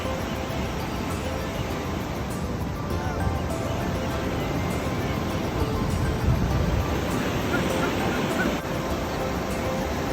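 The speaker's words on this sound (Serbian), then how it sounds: "Okean je inače užasno hladan uvek i ogromno su talasi" Big Pacific Ocean waves roll onto a crowded California beach on a weekend, giving a continuous, dense roar of surf and wash that stays loud and steady throughout, with no speech over it.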